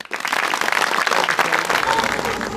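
A studio comedy show audience breaks into applause, a dense burst of clapping that swells quickly and carries on steadily for a couple of seconds.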